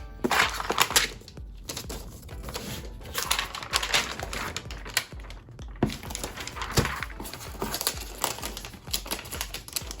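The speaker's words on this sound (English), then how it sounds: "let's take this plastic off by holding it like that" Plastic wrap peeled off a new 16-inch MacBook Pro M1 Max from 2021, giving close, loud crinkling and crackling in irregular bursts with brief pauses between pulls.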